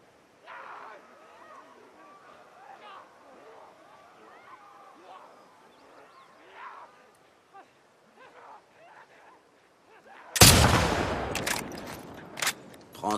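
Gunfire in The Last of Us Part II video game: after a stretch of quiet speech, a sudden loud close gunshot rings out, then a few more sharp bursts follow.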